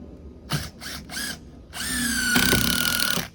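A power drill drives a screw into a board for a SpaceMaker install with a CAMO installation tool: three short whirring bursts, then one longer sustained run that strains as the screw seats, close and loud.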